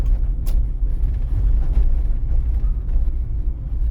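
Steady low engine rumble and road noise from a car driving along a city street during a driving test route, continuous and fairly loud with no voices.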